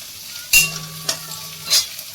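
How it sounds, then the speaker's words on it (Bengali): Bread frying with onions in a home kitchen pan, heard as a few short scraping stir bursts over a soft, steady low sizzle. "এখন একটু ব্রেড দিয়ে ওই পেঁয়াজ দিয়ে যেরকম ভাজা করে আমি খাই সেটাই বানাচ্ছি।"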